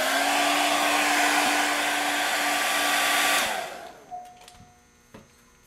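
A hair dryer blows on a first coat of stippled makeup over a bald cap and forehead, roaring loud and steady up close before switching off and winding down, followed by a few small clicks.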